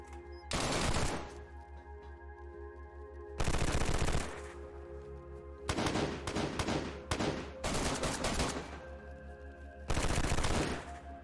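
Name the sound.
gunfire from hip firing in DayZ video game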